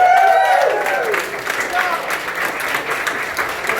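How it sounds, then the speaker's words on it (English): A panel audience at a convention applauds the panelists, loud clapping that starts strong with a few cheers and then settles into steady, slightly fading applause. "give these guys a good hand clap"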